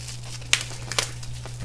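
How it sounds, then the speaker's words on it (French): Plastic wrap is pulled off a PlayStation VR box: a low hum runs underneath, broken by two or three short, sharp crinkling tears close by. "C'est comme ça que j'enlève le plastique, moi."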